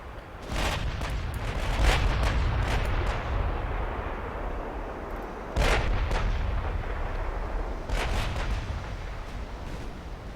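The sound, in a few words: naval gunfire from warships in the video game Ultimate Admiral Dreadnoughts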